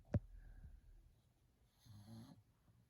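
A dog's soft, low snore rumbles once near the middle after a small snort at the start, quiet and close with faint background hiss.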